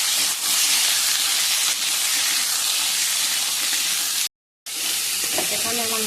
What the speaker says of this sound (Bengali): অনেকক্ষণ ডাঁটা আলু দিয়ে কষিয়ে নেব।